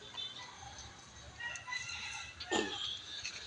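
A rooster crows faintly from a distance amid quiet outdoor ambience, with a few soft clucks around it.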